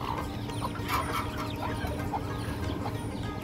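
Chickens cluck repeatedly and softly on a river char where cattle and ducks are also kept, with steady outdoor background noise and no talk.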